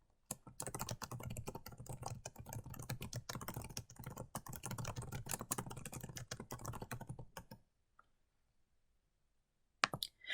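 Fast, steady typing on a computer keyboard as a description is entered, a dense run of close key clicks lasting several seconds, then silence and a couple of final taps.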